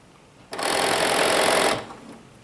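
A sewing machine stitches knit fabric in a single steady burst of just over a second, a close, loud whirring hum that starts abruptly and then winds down into quiet.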